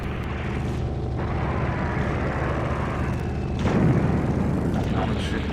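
Gunfire and explosions in the vehicular combat video game Rogue Trip: Vacation 2012, rumbling booms and shots over a constant engine drone, with a louder blast midway and a voice talking.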